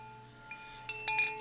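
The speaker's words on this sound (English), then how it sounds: "What you hear is the water bell" A water bell rings softly during a calm tarot reading introduction, several gentle strikes about half a second apart leaving clear, sustained ringing tones that hang in a quiet room.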